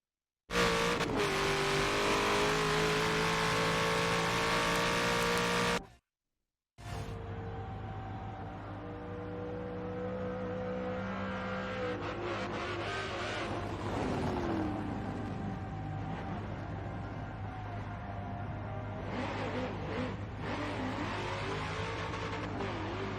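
Race cars in a racing video game roar past continuously, engines revving and shifting with occasional tire squeal, loud and sustained apart from a brief dropout early on.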